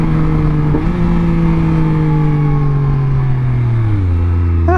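A 2021 Yamaha MT-09 motorcycle engine pulls hard with a loud, close, droning tone that climbs steadily, broken by quick gear shifts, with no talk over it.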